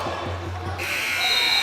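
A high school basketball game buzzer cuts in partway through, a sustained electronic tone ringing over gym noise after a few ball bounces on the court.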